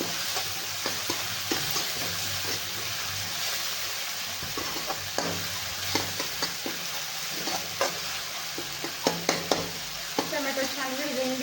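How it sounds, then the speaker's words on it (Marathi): Tomatoes frying in hot oil in a pan for a potato and cauliflower curry, with a steady sizzle and repeated scraping strokes as they are stirred, close and fairly loud, with no talking. "टमॅटो चांगला तेलात गिरगाळा आहे"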